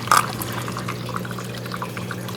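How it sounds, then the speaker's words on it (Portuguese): Water trickles steadily through the pipes of a home hydroponic garden, a continuous soft running and dripping sound over a low pump-like hum, with one brief splash at the start. "A água tá correndo ali."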